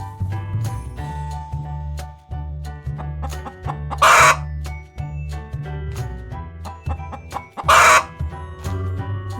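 Chicken clucking close by: scattered short clucks over a constant low farmyard hum, with two brief louder bursts of noisy squawking.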